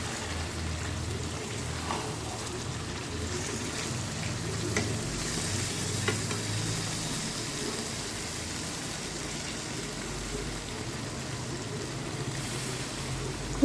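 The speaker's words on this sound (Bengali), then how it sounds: "এবার এখানে আমি সামান্য জল দিয়ে দেবো।" Kashmiri chicken masala sizzles steadily in a pan as a little water goes in, a constant close frying hiss with faint stirring scrapes throughout.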